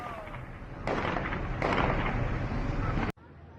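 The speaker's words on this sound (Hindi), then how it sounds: "तितर-बितर करने के लिए पुलिस लगातार फायरिंग कर रही है।" Police gunfire at a street protest in Iran, a sustained loud crackling burst broken by a couple of sharper onsets and ending in an abrupt cut, with raised voices mixed in.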